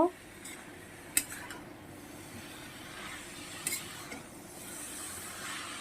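A utensil scrapes and clinks in a pan as fried potatoes and steamed cabbage are stirred together over raised heat, with a few sharp metallic knocks over a low background hiss.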